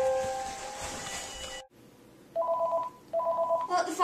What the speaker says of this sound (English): Well, the phone's ringing.